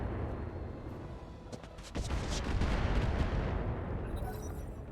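Turrets in the video game RogueTech fire a quick series of muffled thuds and cracks, fairly faint and distant, over a low rumbling background, with a brief bright fizz near the end.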